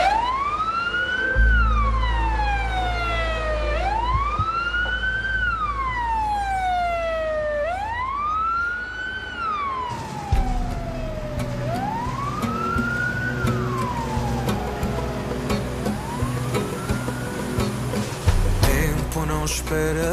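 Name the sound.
ambulance siren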